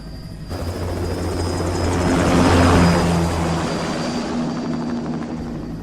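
Aircraft engines in the Metal Gear Rising video game roar steadily through a takeoff, swelling louder toward the middle and then easing back slightly, heard alone and without speech.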